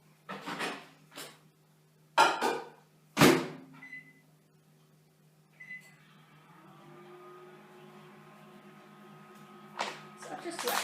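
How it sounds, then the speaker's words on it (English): A microwave oven's low, steady mechanical hum runs through the second half after a few knocks and clicks, with brief beeps; a voice speaks briefly near the start and end. "So I've just whacked it in the microwave"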